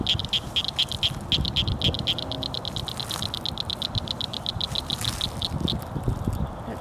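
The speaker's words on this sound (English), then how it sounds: "That sound you just heard is a cricket frog." A cricket frog calls from a cattail wetland where frogs are breeding, giving a long run of rapid dry clicks like pebbles knocked together. The clicks speed up and then slow, and a rough outdoor rumble runs beneath them.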